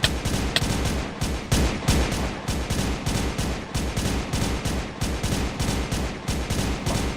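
Rapid, loud bursts of gunfire from a gun in a Minecraft game, repeating steadily in a dense, continuous volley that fills the whole stretch.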